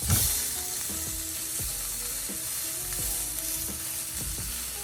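Steak sizzling steadily in a hot pan with a loud, continuous frying hiss, broken by a few soft thuds and scrapes as the meat is flipped and shifted.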